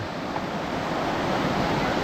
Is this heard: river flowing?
yes